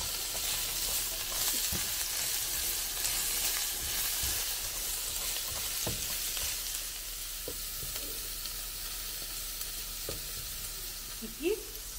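Carrots fry in a pan for a beet and chickpea soup, a loud, constant close sizzle with faint stirring knocks and a small clatter near the end.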